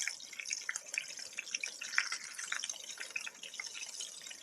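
Scallops sizzling in a hot oiled pan at a bushcraft camp, a steady crackling, spattering hiss heard close up with no talking.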